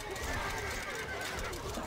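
A horse neighs and whinnies in the medieval strategy game Stronghold: Crusader, heard at moderate loudness over a dense, steady bed of in-game ambience and a voice.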